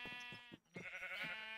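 Sheep in Minecraft bleat in a clear, close run of wavering tonal calls. A short gap breaks the sequence, then a longer bleat follows. No one talks.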